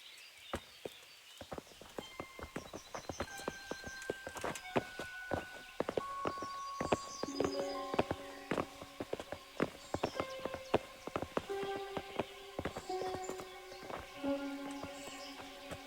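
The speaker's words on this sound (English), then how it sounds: "Bring the horses." Horses' hooves clip-clop in the medieval video game Kingdom Come: Deliverance, a busy run of overlapping hoof strikes over a bright musical backdrop, with a faint whinny possible among the steps.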